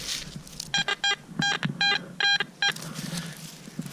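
Metal detector sounding a series of short electronic tone bursts over buried metal, about seven quick beeps in uneven groups, close and clear over quiet background rustle.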